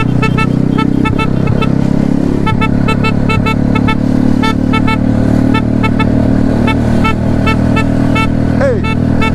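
A motorcycle engine on a ride through Spanish Town, St Catherine, Jamaica, runs steadily loud and close throughout, with a brief horn-like toot near the end and voices underneath.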